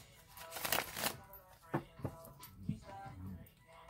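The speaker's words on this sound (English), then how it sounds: "I'm going to shuffle it three more times" Tarot cards are shuffled close by in a soft riffling burst, followed by a few sharp taps and slaps as the deck is squared and cards are set down, with quiet gaps in between.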